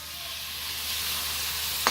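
Tomatoes sautéing in a pan, a bright, steady sizzle with no talking, close and even, ending on a brief clatter.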